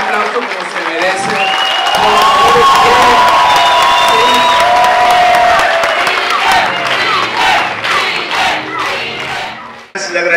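A crowd at a third-anniversary dinner in Bogotá, Colombia bursts into loud, sustained applause with cheering and whoops, thinning toward the end into scattered claps.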